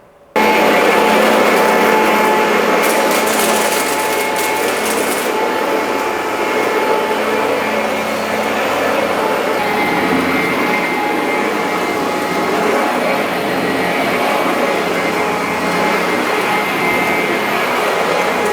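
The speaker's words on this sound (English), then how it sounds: "So now I'm just going to vacuum the entire floor front to back." A vacuum cleaner cleans an epoxy-coated garage floor with a loud, steady whining roar. It starts abruptly and runs continuously at close range with no speech.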